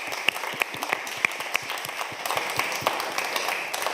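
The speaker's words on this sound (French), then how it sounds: "On peut acclamer le Seigneur." An audience applauds to acclaim the Lord at a performance by a Christian gospel singer, with a steady patter of many hands clapping and a few sharper, louder claps standing out.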